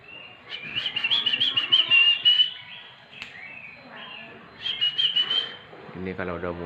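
A Kacer Bogor oriental magpie-robin sings in clear, bright whistled phrases in two bursts with a short pause between, close and fairly loud, ending with a brief lower rattling call.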